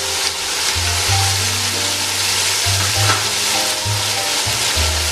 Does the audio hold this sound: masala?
yes